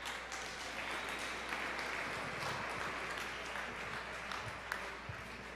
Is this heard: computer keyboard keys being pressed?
no